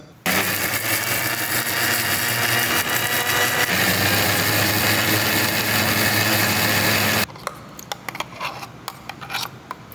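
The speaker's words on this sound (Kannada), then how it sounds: "ಮಿಕ್ಸಿಯಲ್ಲಿ ರುಬ್ಬಿಕೊಳ್ಳೋಣ" A kitchen mixer grinder grinding cooled vitamin greens with grated coconut, a loud, steady motor whir for about seven seconds that cuts off abruptly, followed by faint clicks and rattles.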